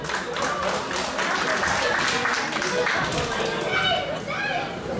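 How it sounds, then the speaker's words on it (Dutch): Audience applause and cheering for two fighters at a Fight Dome combat event, a steady, loud crowd roar with clapping sustained throughout. "mag ik een groot applaus voor deze twee vechters"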